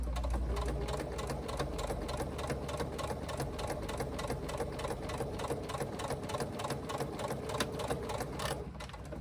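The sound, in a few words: sewing machine with walking foot stitching vinyl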